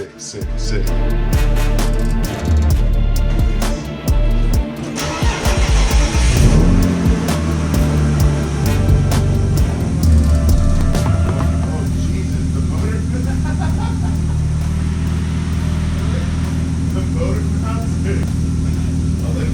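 A BMW E36 engine idles with a steady low rumble and heavy vibration, revving briefly early on, with people talking over it at times.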